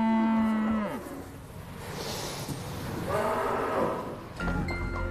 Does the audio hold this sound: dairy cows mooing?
yes